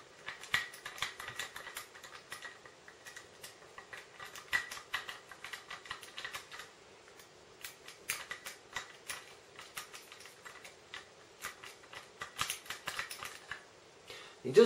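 A tripod mount collar on a Canon 100-400mm f/4.5-5.6L IS II USM lens is unscrewed in quick dry clicking ratchets and small scrapes, close and fairly quiet, repeating throughout.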